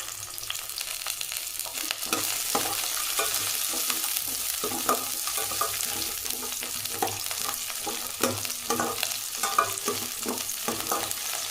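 Five or six garlic cloves fry in a pan for a field bean and brinjal kuzhambu, making a dense, continuous close-up sizzle with frequent crisp stirring clicks over about ten seconds, with no speech.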